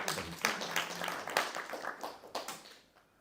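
Audience applause at a talk on worry, a scattered round of claps that fades out near the end, fairly soft in the room.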